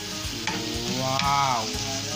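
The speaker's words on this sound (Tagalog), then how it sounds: "Add onions." Onions hit a hot frying pan and sizzle loudly and steadily, with a few soft clanks of stirring close by and no voices.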